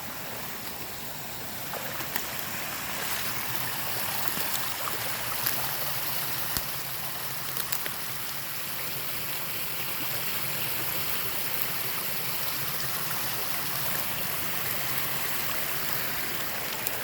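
A small creek in Missouri flowing steadily, a continuous faint hiss and rush of moving water with no pauses, and no talking.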